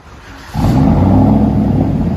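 A Chevy Silverado's 4.8L V8 with straight pipes idles quietly, then bursts into a loud, deep rev that holds as a raw, rumbling roar close by.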